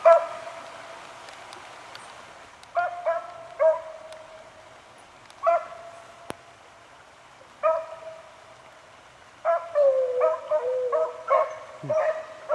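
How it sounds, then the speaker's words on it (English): Several beagle hounds running a rabbit trail through briars outdoors, giving repeated bursts of baying barks and yips in clusters separated by quiet gaps, moderately distant with one persistent voice. "You hear that one dog that just keeps getting it and getting it, Ron?"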